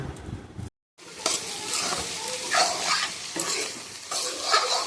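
Vegetables for fried rice being stirred and fried in a pan, with a brief silent gap, then a loud, busy sizzle and repeated scraping of the spatula.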